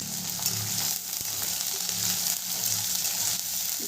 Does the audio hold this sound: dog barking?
no